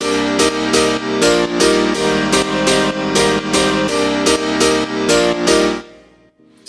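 A five-layer synthesized piano plays loud, rich chords in a repeated rhythmic pattern with no voices, then fades away over the final second.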